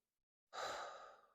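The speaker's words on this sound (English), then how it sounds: "Breathe out." A single slow exhale from a person, a soft close breath that rises quickly and tapers off gradually in otherwise quiet surroundings.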